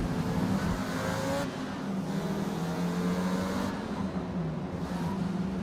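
A car engine in the Forza Motorsport racing game drones steadily at low revs for the whole stretch, loud and close, with tonal engine whine shifting slightly in pitch.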